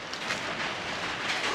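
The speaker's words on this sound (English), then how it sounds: "Now it's raining." Steady broadband hiss of rain falling outdoors in Melbourne, a constant even patter with no voices, close and moderately loud throughout.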